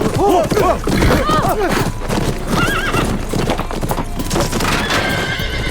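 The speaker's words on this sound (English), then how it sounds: "The horse sensed something was off. It bolted." Close, loud neighing and whinnying over the rapid clip-clop of hooves, with a busy, scrambling background throughout.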